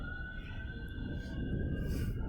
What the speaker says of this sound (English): Like the siren of the ambulance doesn't have to bother me, you know?